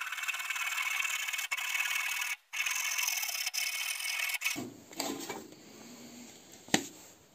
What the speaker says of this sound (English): I'll just cut it and sand it off.